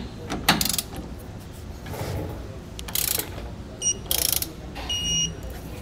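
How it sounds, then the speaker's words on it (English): A torque wrench clicks and ratchets in several short bursts while bolts on a Roadmaster rear anti-sway bar are tightened under a 2013 Newmar Bay Star motorhome, close and fairly loud over faint background noise. "go back and torque all of our hardware to the specifications outlined in our instructions."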